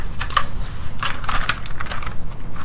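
Steady, rapid typing on a mechanical computer keyboard, with dense clacking keystrokes close to the microphone and no voices.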